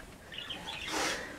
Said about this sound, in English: Birds are having a talk to themselves in the cage.